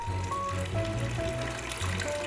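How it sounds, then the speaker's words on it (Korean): Water trickles steadily into a Corten steel basin inside a greenhouse, a soft continuous dribble with light splashy tones, faint and close, with no voices. "청아한 물소리 들리시나요?"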